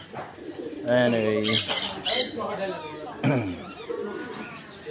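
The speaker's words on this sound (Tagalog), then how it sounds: "Ah, yung mga kalapati." Pigeons cooing at a butterfly sanctuary in Bohol, Philippines, soft repeated coos running under close, lively talk from people nearby.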